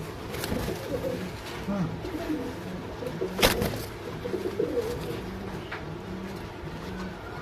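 Several pigeons coo in soft, low repeated phrases close by, overlapping one another, with a brief sharp knock partway through.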